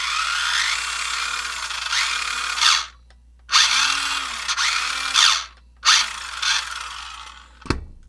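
A 1:16 Ford Pinto RC car's electric motor revs in repeated throttle bursts, a high whirring whine with gear chatter that stops and restarts several times, close and loud.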